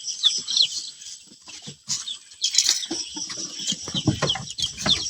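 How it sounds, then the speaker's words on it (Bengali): Farm chickens cluck in a raised coop, with repeated near calls and short bursts over a steady high background chatter from the flock, continuing throughout. "এইখানে উপরে কিন্তু হচ্ছে দেখেন আমাদের ফার্মি মুরগি রাখা আছে"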